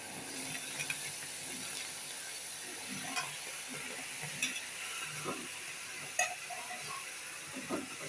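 Chillies go into a kadai of hot water, giving a soft sizzling hiss broken by a handful of sharp clicks and knocks spaced irregularly, close by and with no talk.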